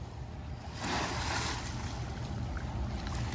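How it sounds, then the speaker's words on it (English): A low, steady rumble of a water taxi engine on a lake, with a rushing swell of wash and wind rising midway, heard from a short distance. "There's the water taxi heading back to the city."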